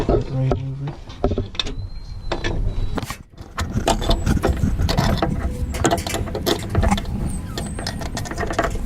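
Bolts on the motor mount bridge of a 2003 Honda CR-V are spun and tightened with a ratcheting tool, giving loud clicking and clattering bursts and metal handling noise close by, with a person speaking at moments.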